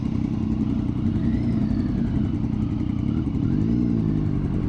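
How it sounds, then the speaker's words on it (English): A motorbike engine runs close and loud with a steady, throbbing low rumble, riding along the Ornamental Drive in the New Forest with no talking over it. "But we're on a motorbike"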